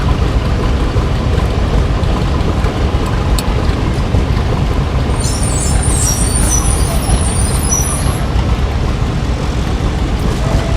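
Antique tractors drive past in a flower festival parade, with a loud, dense engine rumble throughout and a high squealing squeak partway through.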